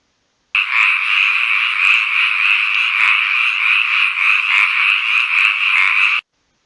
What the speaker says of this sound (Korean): 개구리